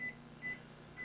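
A microwave oven runs while heating potato dumplings made with egg and flour, its steady low hum beneath three evenly spaced soft tonal beeps, quiet and close, with no voices.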